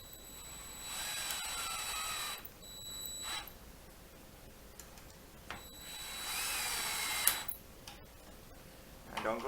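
Cordless power drill driving screws into a wooden cabinet face on a teardrop camper build, two separate high-pitched whirring bursts of a couple of seconds each, close by, with brief quieter pauses between.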